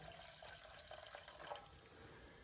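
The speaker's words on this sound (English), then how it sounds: "I'm going to go ahead and pour that into a 2-quart bush pot and fill it halfway full." Bean cooking liquid poured into a 2-quart pot until it is half full, a steady close trickle and splash of liquid running without a break.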